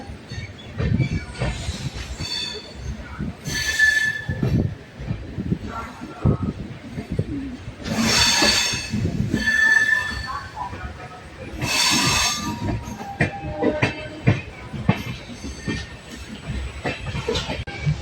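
A Gandhidham–Tirunelveli Humsafar Express train rumbles along the rails with rhythmic clatter and occasional high squeals from the wheels, people talking nearby over the noise.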